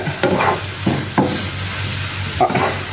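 Prawn masala being sautéed in a pan, with a few loud scraping stirs against the metal over a continuous close sizzle.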